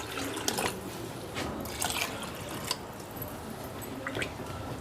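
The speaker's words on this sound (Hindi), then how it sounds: "दाल डालने के बाद साथ ही इसमें 2 कप पानी डाल देंगे" Water poured into dal in a cooking pot, a quiet watery splashing and trickling with intermittent splashes over a few seconds, close and without speech.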